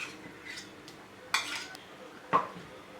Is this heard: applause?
no